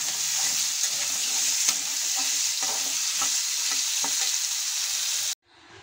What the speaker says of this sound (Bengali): আলুগুলো লবণ হলুদ দিয়ে একটু ভেজে নেব।